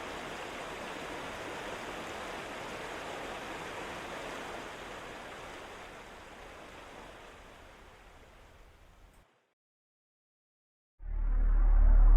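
Rushing river water on a canoe trip, a steady broad wash of current and churning waves that fades slightly before cutting to silence, then a loud low rumble of water returns at the end.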